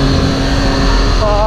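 A Triumph Tiger 800 XRX with an inline-three engine on a test ride: a loud, steady, smooth engine hum, heard close up.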